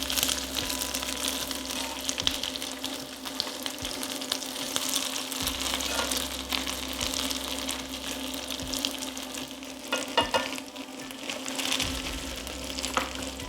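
Vegetables frying and sautéing in butter in a pan give off a steady, close sizzle with crackling pops and occasional stirring scrapes throughout, with no talk over it.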